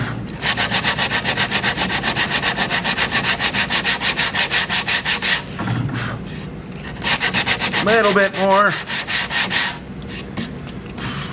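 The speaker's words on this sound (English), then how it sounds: "I'm going to sand that down until it's flush" Sanding a wooden plug flush on a three-legged stand, a steady loud rasping rub in fast regular strokes for about five seconds, then a few shorter bursts, with a brief spoken comment between.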